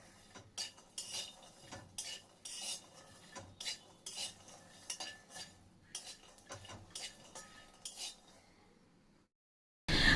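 Dry peanuts frying and being stirred in a pan, a rapid series of rattling scrapes and clinks from a spatula against metal in irregular bursts, close and clear, ending in a short silence.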